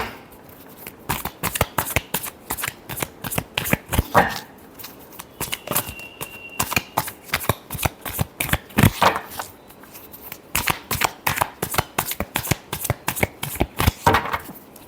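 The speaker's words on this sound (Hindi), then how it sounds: "Last shuffle." Tarot cards shuffled by hand close up, a long run of rapid crisp riffling bursts in a steady rhythm with short pauses between, with a voice speaking at times.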